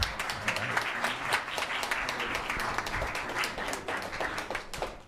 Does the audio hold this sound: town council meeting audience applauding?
yes